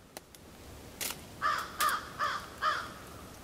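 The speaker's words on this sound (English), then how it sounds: "Hear the crows? Yeah, they're welcoming me." Crows caw four times in a steady rhythm at moderate distance, preceded by a few faint clicks and rustles, with no talking.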